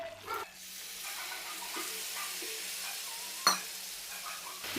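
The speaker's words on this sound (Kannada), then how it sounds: "ಇವಾಗ ನೀರನ್ನ ಆ್ಯಡ್ ಮಾಡ್ಕೊಳ್ಳೋಣ." Hot water poured into roasted semolina in a pan for sajjige, giving a steady broadband sizzle and hiss throughout, with a sharp clink partway and stirring scrapes, no voices.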